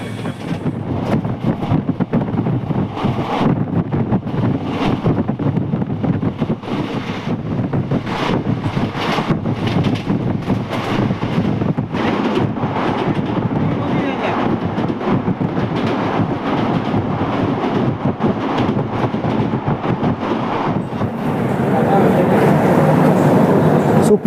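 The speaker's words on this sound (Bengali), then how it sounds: "আমাদের ট্রেন ছেড়ে দিয়েছে।" A moving passenger train on the way to Deoghar, heard from onboard as a loud continuous rumble with rhythmic clatter and wind rush, and voices faintly underneath.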